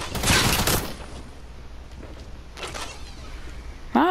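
Video game gunfire: a loud rapid burst at the start, then fainter scattered shots and another short burst, ending with a brief voice.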